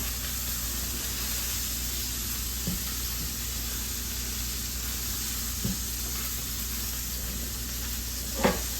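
Steady close sizzle of bacon frying in a pan, a constant bright hiss with a few faint pops and a louder crackle near the end, no talking.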